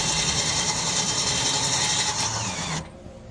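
A power drill whirring steadily at close range as it drives the grinding, ratcheting mechanism of an 8000 lb trailer jack, then stopping abruptly near the end.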